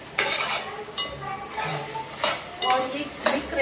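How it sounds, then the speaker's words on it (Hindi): Chicken frying in a pan at home, a bright sizzle with several distinct stirring scrapes and light clinks of a utensil against the pan, close and fairly loud. "यहाँ पे चिकन फ्राई हो रहा है"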